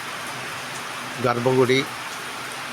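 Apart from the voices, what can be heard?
rain falling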